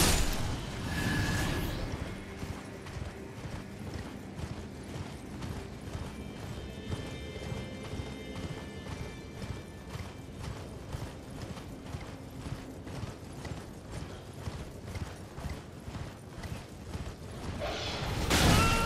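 A horse galloping in the video game Elden Ring, with steady, rapid clip-clop hoofbeats repeating evenly throughout, moderately loud over a low game ambience.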